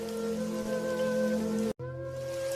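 Heavy, steady rain pours in an animated story as a woodcutter heads into the forest with his axe, a dense continuous downpour that cuts out abruptly for an instant near the end before resuming.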